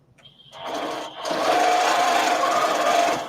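A domestic sewing machine couches yarn onto a quilt, starting with a brief whir and then settling into a steady, loud mechanical hum of rapid stitching, heard close with no talking.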